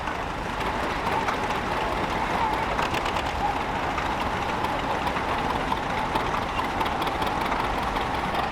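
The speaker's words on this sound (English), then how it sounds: "A 1937 John Deere Unstyled G. This is owned and driven by Mike Shook." A 1937 John Deere Unstyled G tractor engine runs steadily at an outdoor steam and gas threshing bee, a continuous rumbling idle heard amid crowd noise and an announcer's voice.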